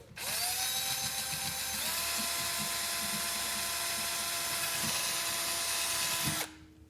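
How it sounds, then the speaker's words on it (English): A power drill with a small drill bit whirs steadily at close range for about six seconds, its pitch shifting slightly as it bites, then cuts off abruptly. "drill a hole in it."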